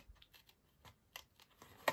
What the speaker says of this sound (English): I love my scissors